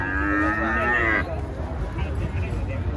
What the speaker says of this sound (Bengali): আরিয়া মহিষ, যাকে পায়রা মহিষ বলা হয়